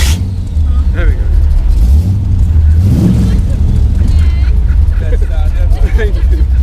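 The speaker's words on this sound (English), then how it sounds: "Everyone's revving, getting impatient." Cars, among them a Cobra, rev their engines while lined up before a tunnel run. The rumbling engines and a rising rev sit under someone talking close by.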